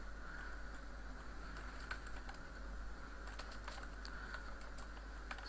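Computer keyboard typing a file name, a steady run of quick light key clicks with a few sharper taps, close and alone against a low constant hum.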